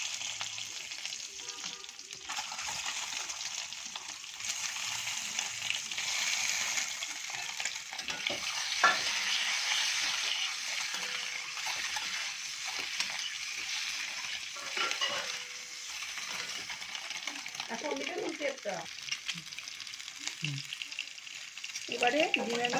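Boiled eggs frying in a wok of hot oil with turmeric and dried chili powder for egg curry, a steady close sizzle with occasional stirring scrapes and clinks throughout.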